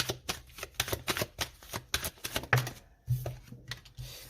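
Tarot cards shuffled and drawn in a reading, giving a close, fast run of crisp papery riffles and flicks with short pauses, quiet and alone without talk.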